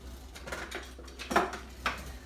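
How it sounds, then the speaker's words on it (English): A spoon stirs Mongolian chicken sautéing in an Instant Pot, with a few scraping clinks and knocks of metal against the pot, irregular and moderately close, over a faint background hum. "I got to get a spoon to stir the chicken"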